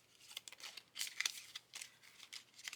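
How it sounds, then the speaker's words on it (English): A deck of high-quality challenge cards gets a quick shuffle, a brief flurry of soft, close papery flicks and riffles at low volume. "we're just going to give them a quick shuffle."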